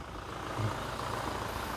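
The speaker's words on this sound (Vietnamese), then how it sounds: "máy dầu nổ rất là êm anh em ạ" A Toyota Fortuner Legender with its 2.4 diesel engine idles with a steady low rumble and smooth, even hum, recorded close by with the hood open and no talk during the sound.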